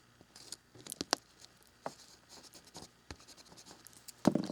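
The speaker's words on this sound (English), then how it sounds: "go through and erase. And that will pick up more of the powder" An eraser rubs over a charcoal powder drawing background in faint, quick scrubbing strokes. Short bursts of scratching come and go, with quiet gaps between them.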